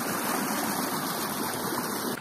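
Water rushes loudly and steadily through an irrigation ditch feeding rice fields in a village, a close, continuous broadband flow with no pauses that cuts off abruptly at the end.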